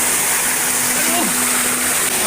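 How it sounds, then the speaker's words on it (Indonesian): A waterfall in a swamp roars as a steady, broad hiss of rushing water, close and continuous, while someone talks over it. "ternyata di sini ada air terjun."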